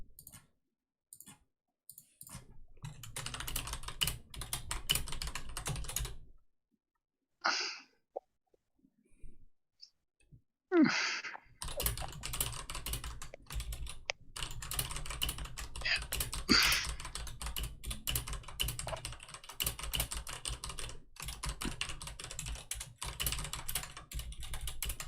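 Rapid clicking keystrokes on a computer keyboard come in bursts, stopping and starting with short pauses, then settle into a long continuous stretch of close, crisp typing.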